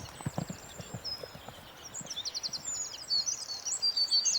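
Horse hooves clip-clop in a steady, fairly quiet rhythm at a farm, with birds chirping faintly in the background.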